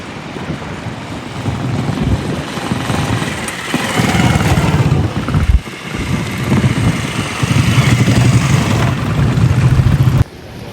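A motorcycle engine runs loud and close on a mountain trek route to Khangsar in Manang, Nepal, with a rough continuous drone that surges and dips in waves as it rides, cutting off near the end.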